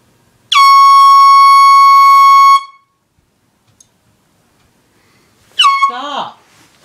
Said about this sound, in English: So, Brandon, prepare to meet air horn.